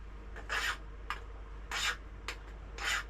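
A file rasps across a metal sliding block for a model steam engine, deburring it in three slow strokes with lighter scrapes between, quiet and close against a low hum.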